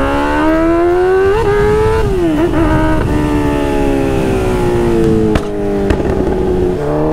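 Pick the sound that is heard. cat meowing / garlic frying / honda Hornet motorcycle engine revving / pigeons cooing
honda Hornet motorcycle engine revving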